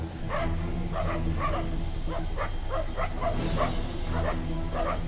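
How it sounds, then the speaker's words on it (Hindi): Several dogs bark and yip repeatedly on a city street at night, reacting to lions. The barks come in an uneven run over a steady low background rumble of traffic, with no talk. "शहर में अनजान मेहमानों को देखकर रात के पहरेदार यानी कुत्ते भी शेरों पर भौंकने लगे।"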